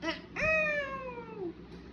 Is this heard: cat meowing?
yes